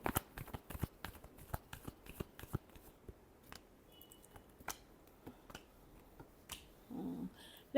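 Tarot cards shuffled by hand during a weekly Aries horoscope reading, giving a run of quick papery flicks and riffles that come in bursts, then thin out to sparse taps, close and fairly quiet with no talking.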